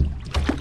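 Oars dipping and pulling through calm, still water from a rowing boat, a brief watery swish and gurgle close by.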